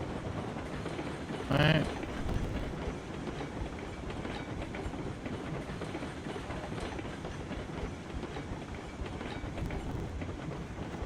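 In Railroads Online, a train rolls steadily along the tracks with continuous rumbling and faint clickety-clack, plus a brief sharp squeal early on; someone speaks a word near the start.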